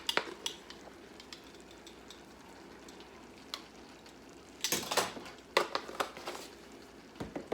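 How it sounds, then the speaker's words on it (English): Stirring shrimp into seasoned rice in a pot, heard as a few scraping and clinking spoon strokes against the pot, mostly in two short bursts near the end over a quiet kitchen background with no talk. "I'm just going to stir the shrimp into the rice at this stage."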